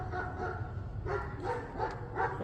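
A dog barks several times in quick, uneven bursts at moderate distance, with low background rumble and no clear speech.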